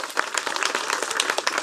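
An audience applauds a volunteer at a magic and mentalism show during a summer event at Pairi Daiza, with brisk, steady clapping that stays even throughout the short moment.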